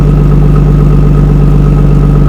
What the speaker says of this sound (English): It actually seems like it's idling a little smoother too.